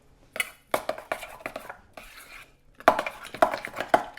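Ceramic plate and utensils clatter on a kitchen counter while a vegetarian party dish is plated, with a run of sharp clinks and knocks, a brief scraping pause, then louder close clatters.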